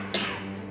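A single short cough, close and fairly quiet, heard alone without any talking.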